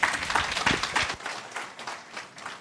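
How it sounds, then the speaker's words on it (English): Conference audience clapping after a speaker's talk, a brief burst of applause that is loudest at the start and fades into scattered, thinning claps. "Let's clap for him."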